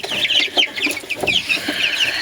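Several chickens cluck close by in quick, overlapping bursts, with soft rustling underneath and no talking.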